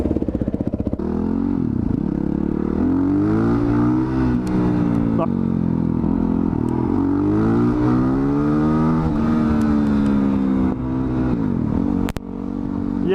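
Supermoto motorcycle engine revving hard during a wheelie attempt, loud and close with rising and falling pitch, a brief drop near the end, under occasional talk.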